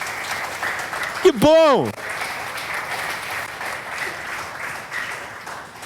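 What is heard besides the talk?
church congregation applauding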